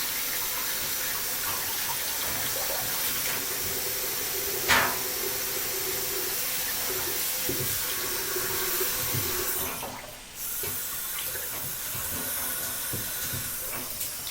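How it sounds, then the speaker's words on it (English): Water runs steadily from a tap into a bath, a constant close hiss and splash with a brief bump and a short dip partway through. "it's just the water running from the tap. It's making that much noise"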